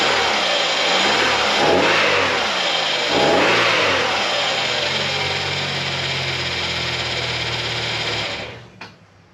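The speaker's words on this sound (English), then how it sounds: "It's running. It's alive. It's actually purring quite happily." Car engine idling steadily after its connecting rod bearings were replaced through the oil pan, a smooth, even purr close by for about eight seconds before it cuts off abruptly.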